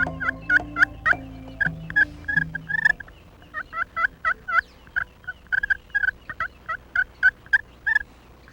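Turkey calls ring out in rapid, rattling bursts, repeated many times over several seconds at moderate volume, with no speech.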